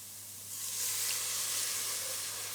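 Milk poured into a hot pan of roux for a white sauce for macaroni cheese, a loud close sizzling hiss that swells up after a brief moment and holds steady.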